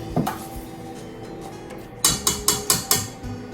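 Tomato sauce is dumped back into a pan on the stove, with a few soft thuds and then a quick series of metallic clanks and scrapes of utensils against the pan.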